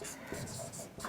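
Chalk or marker scratching on a board in short scraping strokes, close and steady, with a voice speaking over it.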